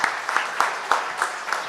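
Audience applause for an award winner at a live '30 Under 30' awards show, steady clapping from a crowd with a few louder claps standing out in a rhythmic pattern.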